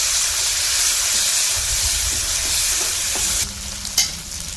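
Asafoetida, curry leaves and ginger paste hit hot oil for spicy aloo paratha masala, giving a loud, dense crackling sizzle that eases slightly before a close utensil clink.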